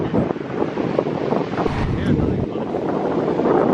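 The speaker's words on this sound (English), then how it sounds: "there's like little baby waves." Small waves lap at a shallow beach under steady wind buffeting the microphone, a constant broadband wash with no distinct breaking crash, under cold rainy conditions.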